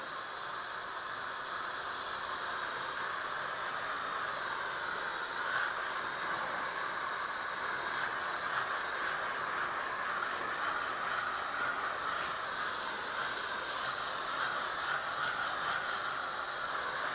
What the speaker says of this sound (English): It's a steam cleaner, so it's going to use basically pressurized, really hot steam